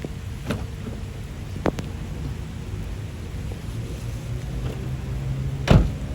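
Rain falls outdoors around a 2016 Toyota Revo 2.4J smart cab pickup, a steady broad hiss under a low rumble, broken by a few sharp knocks and a louder thump near the end.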